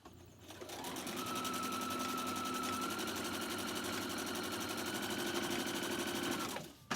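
A sewing machine runs steadily for several seconds while stitching a fabric face mask, a fast, even mechanical whir with a constant pitch and no talk over it.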